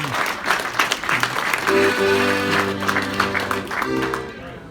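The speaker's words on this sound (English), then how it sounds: "So give a big round of applause" A showcase audience gives a round of applause, loud, dense clapping from many hands throughout, while sustained musical tones like an accordion start up underneath partway through.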